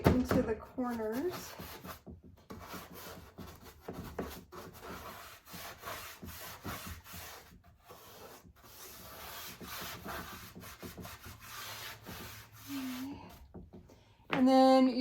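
DIY wax is rubbed into a wooden side table with a cloth or brush, giving a close, continuous scrubbing and rasping texture in quick strokes, with short gaps and a brief voice at the start and end.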